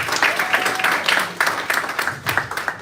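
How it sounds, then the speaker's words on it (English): A small audience at a writers' cohort finale applauds, a dense burst of clapping close by that carries on steadily throughout. "Let's give a round of applause for Veronica."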